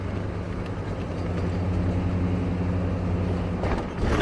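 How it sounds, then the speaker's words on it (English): A car driving along, heard from inside as a steady low engine and road rumble that stays fairly constant over a few seconds, with no speech. "We're kind of driving."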